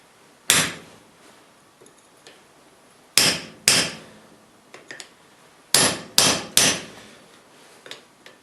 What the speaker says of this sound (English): take a chisel and run it down the center